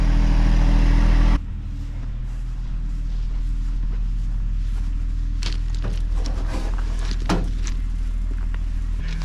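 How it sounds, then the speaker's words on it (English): A tractor drives steadily with a continuous low engine rumble that holds close and loud throughout, during a landscaping job, with faint knocks and rattles over the drone. "drive the tractor back over to property where we're doing some landscaping"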